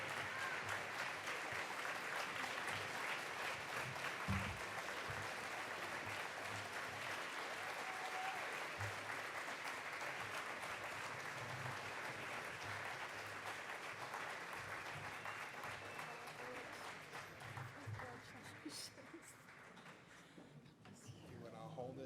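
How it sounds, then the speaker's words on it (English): Audience at a banquet applauds steadily as an award recipient walks to the stage, sustained clapping throughout with some crowd murmur, tapering near the end. "join us in a round of applause as he approaches the stage"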